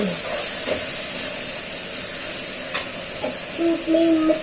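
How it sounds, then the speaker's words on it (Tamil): Tomatoes sautéing in a pan while a masala is being prepared, giving a steady close sizzle and hiss with occasional stirring clinks and a few faint background sounds. "தக்காளி போட்டாச்சு. தக்காளி நல்லா வதங்கட்டும்."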